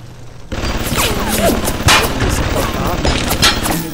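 Machine gun fire in the video game Bioshock rattles in a loud, dense stream of rapid shots that starts abruptly and continues nearly unbroken, with booming impacts and effects mixed in.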